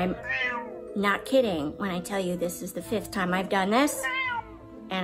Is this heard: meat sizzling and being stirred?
no